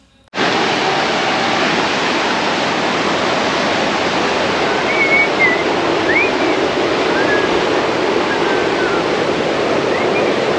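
Rushing floodwater where children stand and play, a loud, steady broadband roar of water that holds constant throughout, with faint high chirps or calls riding on top and no talk.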